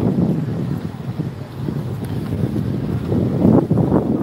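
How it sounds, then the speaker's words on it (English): Wind gusting at Blackpool Pleasure Beach, a steady low rumble and buffeting across the microphone throughout, growing stronger toward the end. "So, sounds really windy"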